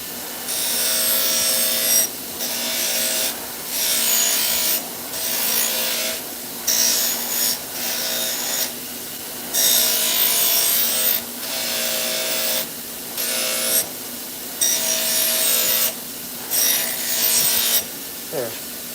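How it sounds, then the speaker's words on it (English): A wire wheel scrubs a hard burr off freshly ground knife blades in a knife-making shop, loud rasping bursts of about a second each, repeated in a steady on-off rhythm over a constant motor hum. "I'm just gonna wire wheel them clean"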